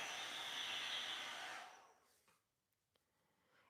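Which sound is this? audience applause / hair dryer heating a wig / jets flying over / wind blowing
hair dryer heating a wig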